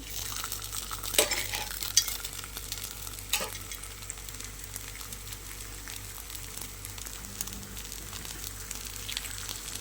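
Sweet potato paniyaram made with wheat flour sizzle softly in ghee in a pan, a quiet steady fry with a few sharp scraping clinks as the pieces are turned.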